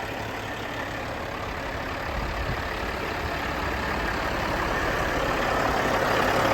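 A 2018 Kenworth T800 tri-axle day cab with a Cat C15 dual-turbo engine idles up close, a loud, steady low diesel rumble with a broad hiss that slowly swells a little louder, no voices.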